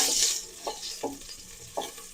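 Cinnamon bark and bay leaves sizzle in hot oil for a chicken gravy, a close steady hiss punctuated by a few soft knocks of a spoon stirring the pan.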